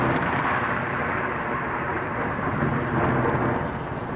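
Heavy monsoon rain pours down steadily with a continuous rumble of thunder during flooding, a dense roar that stays loud for the whole stretch.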